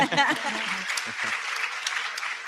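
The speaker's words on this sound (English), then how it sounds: "And yes, you can applaud that." Audience applause at a Kennedy Center talk, brief clapping rising as a voice finishes speaking, then continuing alone at moderate loudness for a couple of seconds.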